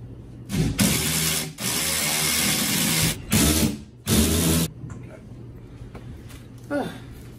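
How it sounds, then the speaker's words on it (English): Power drill driving mounting bolts while a TV is installed, heard as several loud whirring bursts of a second or so each, separated by short pauses, with quieter clatter and movement in between. "the bolts gave us a hard time with the power drill, so the socket wrench had to be brought out"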